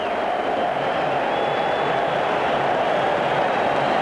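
A football stadium crowd at a Venezuela vs Brazil World Cup qualifier for Italia 1990 gives off a dense, continuous roar that swells and holds.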